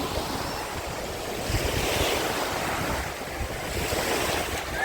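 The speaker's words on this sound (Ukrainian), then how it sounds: "А морічка хвилюється все сильніше і сильніше." Rough sea waves roll and break on an Odesa beach in steady wind, making a continuous, loud wash of surf with gusty wind noise over it and no voices.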